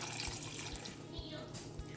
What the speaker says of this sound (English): I'm pouring 5 cups of water.